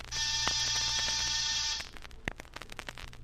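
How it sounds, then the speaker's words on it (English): An apartment door buzzer rings in one sustained, harsh electric buzz lasting under two seconds, followed by faint clicks and rustling in a quiet room. "I rang one buzzer"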